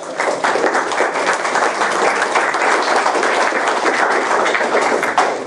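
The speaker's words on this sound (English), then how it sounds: "I just want everyone to stand up and give a round of applause to my girlfriend, Kieran, at the back of the room" Dense, sustained applause from a room full of standing audience members at a business talk, steady and loud throughout with no gaps, a few sharper claps popping out near the end.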